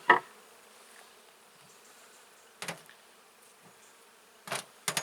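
Honey bees buzz around an opened hive, a faint, steady drone with a few brief louder bursts and soft knocks scattered through it.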